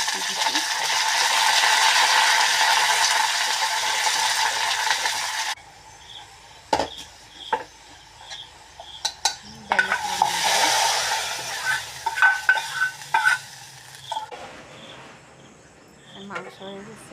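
Bay leaves, panch phoron, onion and curry leaves hit hot oil in a kadai, giving bursts of loud sizzling broken by clanking stirs and scraping of a spoon against the pan.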